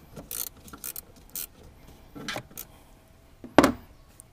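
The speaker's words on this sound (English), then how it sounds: "I just got a 10 millimeter ratcheting wrench that I'm going to use to disconnect this negative terminal" A 10 mm ratcheting wrench clicks in short bursts as it loosens the negative battery terminal nut on a 2007 MINI Convertible, quiet and close, ending with one louder clack.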